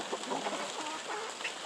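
Chickens cluck in a busy, overlapping flock at feeding time on a farm, fairly close, with soft repeated clucks and calls throughout and no talking.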